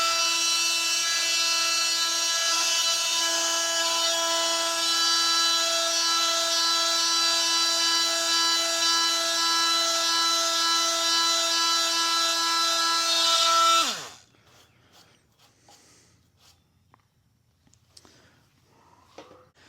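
A Milwaukee M12 Fuel detail sander buzzes loud and close at a steady high pitch against sandpaper for about fourteen seconds, then winds down, leaving faint handling noises.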